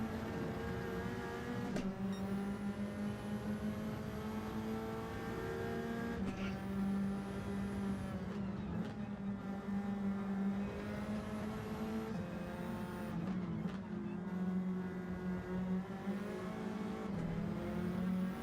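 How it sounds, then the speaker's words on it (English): Race cars in a league racing video game hold a steady engine drone at high revs throughout, the continuous layered whine staying loud and unbroken with slight pitch shifts as the cars drive on. "Big Popper lost traction and went a little bit wide"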